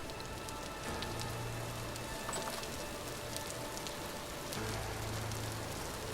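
Steady rain drums on a roof overhead, heard from indoors in the survival game Vintage Story: a dense, even patter that holds at a constant level with a low background hum beneath.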